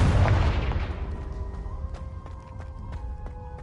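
A Confringo fire spell in Hogwarts Legacy explodes with one loud, close boom that rumbles and slowly fades, followed by a few small sharp crackles and pops.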